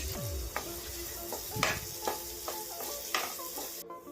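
Onions and curry leaves with their stems fry for a Chettinad chicken gravy, a close, steady sizzle broken by regular spatula scrapes and stirs roughly every half second.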